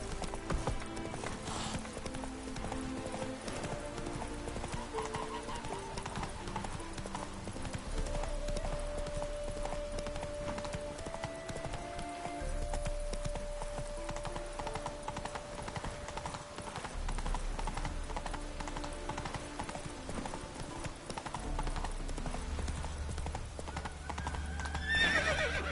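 A horse in The Witcher 3 gallops with steady rhythmic hoofbeats over a game soundscape, whinnying and neighing at points, continuous throughout at moderate level.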